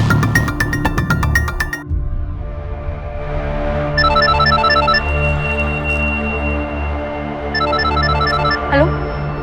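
Telephone ringing in a Hindi television drama scene, sounding in two repeated bursts of bright electronic ring tones over background music, with a loud musical sting before it.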